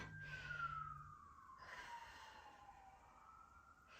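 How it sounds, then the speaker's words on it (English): A distant emergency vehicle siren wails with a slowly falling tone, faint against a low background hum, no voices. "sorry about the sirens."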